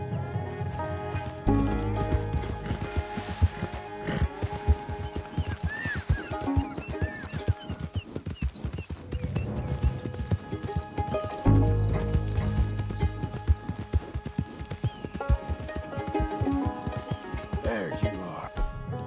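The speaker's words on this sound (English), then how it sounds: "My horse ran away!" Horse hoofbeats clip-clopping at a steady trot to gallop in a Red Dead Redemption 2 game scene, with a brief whinny, heard over background music and scattered voices.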